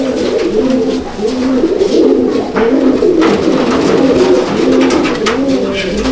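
Fancy pigeons coo repeatedly in a loft, a steady overlapping chorus of soft throaty calls that carries on close by without a break and with no talking.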